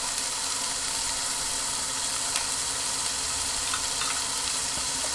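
Bacon frying in canola oil on a Hestan Cue smart cooktop sizzles as a steady, dense hiss throughout, with a faint low hum underneath and a few small pops and scrapes.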